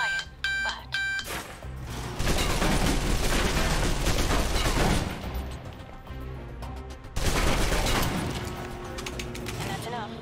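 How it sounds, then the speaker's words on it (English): Bursts of rapid submachine gun fire rattle out in Alpha Protocol, a close-quarters firefight with dense automatic volleys, a brief pause, then another loud burst, mixed with beeping game sounds and mechanical clatter. "If you're trapped in close quarters with multiple opponents, the SMGs can help clear the room quickly."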